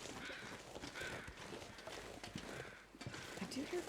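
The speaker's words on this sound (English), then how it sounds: "I do hear crows, but" Crows caw faintly in the distance within the wintry survival game The Long Dark, a few scattered calls mixed into a low, steady ambient hiss and creaking background.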